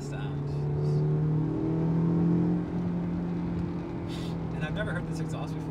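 A Honda S2000 engine hums steadily through an aftermarket Mugen exhaust with a low drone that swells and eases, while voices talk faintly over it.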